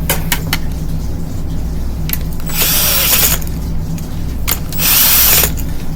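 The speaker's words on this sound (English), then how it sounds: "Screw it down." A power drill drives a screw down onto a wire terminal, giving repeated whirring and ratcheting bursts over a steady low mechanical hum, close and fairly loud, with no talking.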